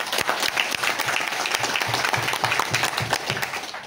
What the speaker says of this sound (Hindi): एक बार जोरदार ताली कीजिए